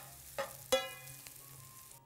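Food stirred in a pan with a spoon: two or three quick scraping clinks over a faint low simmer, close and quiet, no talking.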